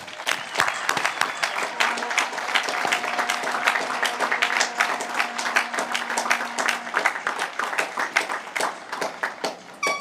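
A graduation ceremony audience gives faculty and staff a sustained round of applause, dense clapping from a large crowd filling the hall at an even level, tapering slightly near the end.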